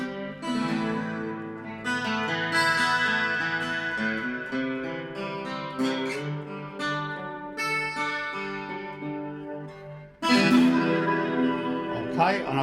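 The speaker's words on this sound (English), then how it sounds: "So I got some chorus on it, which I love, chorus and reverb." Guitar played through an Enya Nova Go SP1 with chorus and reverb, ringing chords and sustained notes shimmering and washing together, heard alone with no talk.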